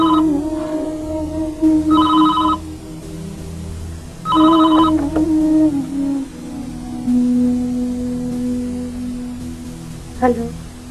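Telephone ringing before a call is answered in a drama scene, a few separate electronic ring bursts spaced apart over a low background tone and hum.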